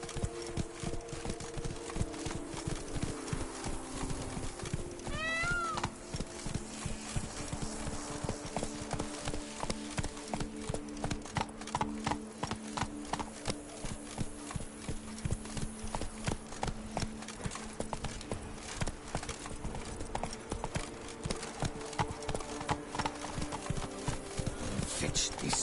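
Roach, a horse in The Witcher 3, gallops in steady rapid hoofbeats that run the whole stretch over a game score, close and prominent, with a brief whinny-like sweep early on.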